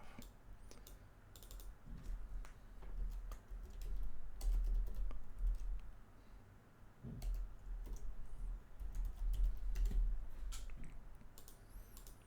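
Quick, light keystrokes on a computer keyboard while a short name is entered in 3D rendering software, a soft steady patter of clicks close by with a low background hum and no voices.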